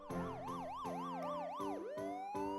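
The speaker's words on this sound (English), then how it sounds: "I could hear loud sirens, definitely a fleet of police cars coming this way." Police car sirens sweep up and down in steady wailing cycles, loud and close, as a fleet of police cars approaches in a manga dub sound effect, ending with a rising tone.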